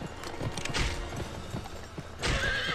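Horse hooves gallop in quick, steady rhythm in the Western video game Gun, with a whinny near the end and a loud burst of game noise over the final stretch.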